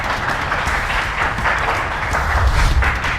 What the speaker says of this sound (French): On applaudit Sandra.